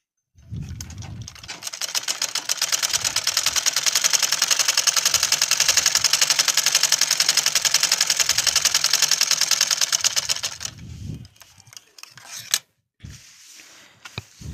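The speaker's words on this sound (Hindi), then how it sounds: "इसी तरीके से हम इस साइड में भी सिलाई लगा लेंगे इसकी।" Electric sewing machine stitching the side seam of a fabric grow bag, a steady rapid clatter running for about ten seconds before slowing to a stop, followed by a few handling knocks.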